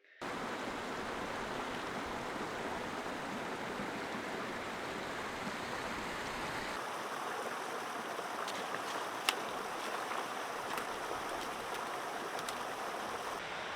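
A mountain waterfall cascading beside a steep climb roars as a loud, steady wash of rushing water that fills the whole stretch, close by and unbroken, with no voices.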